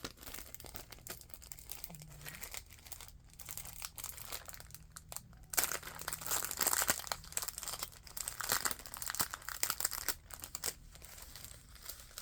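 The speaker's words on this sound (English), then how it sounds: "This is like tissue paper." Sheets of tissue paper crinkle and rustle while a vintage shell collection is unboxed, with irregular soft crackles that swell into denser handling noise midway and continue at close range.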